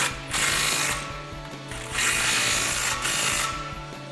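A 15 mm socket ratchet tightens two exhaust nuts on a 2015-2019 Ford Mustang EcoBoost cat-back exhaust, with steady, close clicking under repeated back-and-forth strokes and short pauses between swings.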